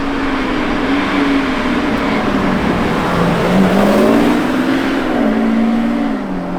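A Lamborghini Revuelto hybrid supercar drives past on a public road, its engine note rising and sweeping in pitch as it approaches, holding a loud, smooth roar, then easing slightly as it moves on.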